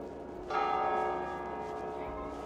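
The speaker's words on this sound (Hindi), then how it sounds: "टलियाँ बजनी शुरू हो गई हैं, घंटा हो गया, मेरा ख्याल 8 हो रहे हैं।" Bells of an old church in Venice strike on the hour in the evening, one loud ringing stroke with a long resonant decay, heard outdoors over steady background ambience.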